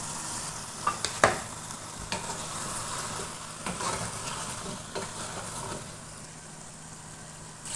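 Flat beans, potato and radish fry and sizzle in hot oil, with a continuous crackling hiss broken by a few sharp scrapes and clanks of a spoon stirring the pan.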